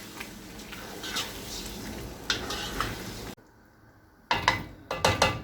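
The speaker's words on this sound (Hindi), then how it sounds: "दही डालेंगे, अच्छे से मिक्स कर लेंगे।" A spoon stirring yogurt into simmering chicken korma in a pot, soft scraping and gentle sizzle with faint utensil knocks, briefly dropping quiet midway before a few firmer stirring strokes resume.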